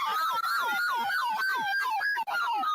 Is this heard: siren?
yes